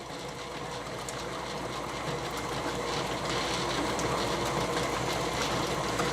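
An electric mixer whipping ingredients into a fluffy mixture, a steady close motor whir that holds constant and grows slightly louder, with no voices.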